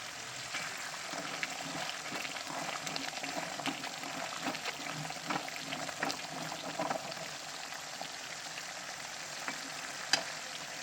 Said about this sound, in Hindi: तो यहाँ पे मैं घी निकाल रही हूँ